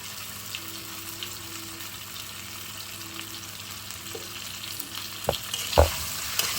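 Taro pieces fry in oil with blended onion and garlic, a soft steady sizzle under stirring, with a couple of louder scraping clatters from the utensil near the end.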